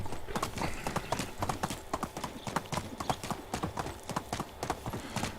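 A mare's hooves clip-clopping in a quick, steady rhythm in the Medieval Dynasty game, close and moderately loud, with faint whinny-like sounds and speech mixed in.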